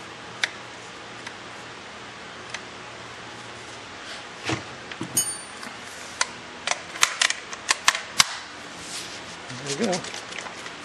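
Rifle rounds pressed one by one into a tight AKM magazine, giving sharp metallic clicks and snaps at an irregular pace close to the microphone, with rustling handling noise and someone speaking at times.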